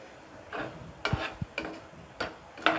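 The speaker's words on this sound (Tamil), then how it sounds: "இப்போது நம்ம அரைச்சி வச்சுருந்த விழுதை போட்டுடலாம்" Ground spice paste goes into a pan of frying onion and tomato, with a few sharp scraping stirs and a soft sizzle between strokes, close up.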